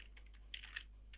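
Keys on a computer keyboard are tapped while code is written, giving a few quiet, light clicks spaced irregularly over a low steady electrical hum, with no speech.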